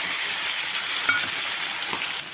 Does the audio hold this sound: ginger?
yes